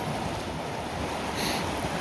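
A river running high and swollen near a boat launch, giving a steady broad rushing wash of flowing water with some wind noise across the microphone.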